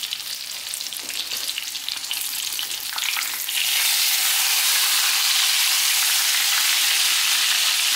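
Pork neck slices fry in a pan, loud and close, with crackling spatter and stirring at first, then a dense, steady hiss of sizzling fat that continues to the end.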